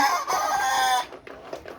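A Fayoumi rooster crows loudly for about a second, a long harmonic call, followed by softer clucking and bird calls in the background.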